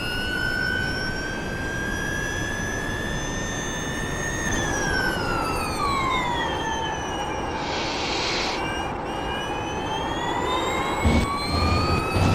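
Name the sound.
Porsche Mission R engine under throttle in the iRacing video game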